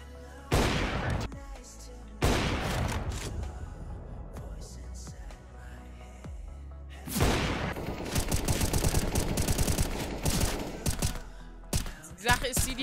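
Gunfire in CS:GO matchmaking: loud bursts of rapid automatic shots in several volleys, separated by quieter gaps, with sharp single cracks toward the end.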